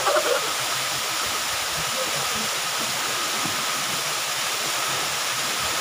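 Kawasan Falls in Barangay Daig, Tulunan, Cotabato roars as a continuous, loud, dense rush of falling water, unbroken from start to finish with no voices.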